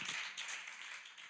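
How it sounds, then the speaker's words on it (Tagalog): A church congregation claps together in a short, steady burst of applause, fairly near and moderately loud, with no talking over it. "pwede ba nating palakpakan si Lord, yung malakas na palakpak para sa Panginoon?"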